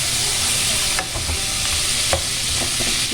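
Spices being lightly dry-roasted in a pan for murgh malai, ahead of grinding, with a steady dry sizzle and occasional scraping stir clicks close by.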